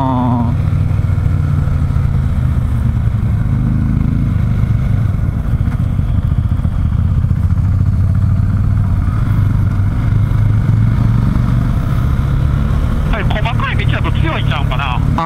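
A large motorcycle engine drones steadily and loudly throughout, with people talking over it as it rides.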